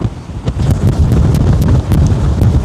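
Strong wind off the Tasman Sea at Milford Sound, New Zealand, buffets the microphone in a steady, loud, roaring rush with gusty surges throughout and no voices.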